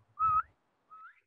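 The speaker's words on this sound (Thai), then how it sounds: "สามารถเป่าปากให้มีเสียงได้ด้วยนะ" Two short whistles blown through pursed lips, the first a clear steady tone with a slight rise at its end, the second quieter and sliding upward, separated by a brief silence in a quiet room.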